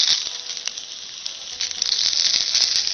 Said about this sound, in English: You can probably hear them sizzling